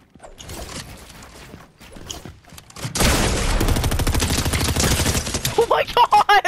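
Rapid gunfire bursts in a first-person shooter match, loud and close, starting as a sustained stretch of overlapping shots with sharper individual pops near the end; someone talks briefly beforehand.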